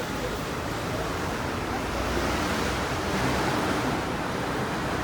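Ocean waves at a beach in the Netherlands make a constant, loud roaring wash mixed with wind buffeting the microphone, steady across the whole stretch with no clear breaks between waves.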